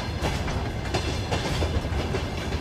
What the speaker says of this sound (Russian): по левую руку от нас идут составы, груженные углем с маркировкой Unison Group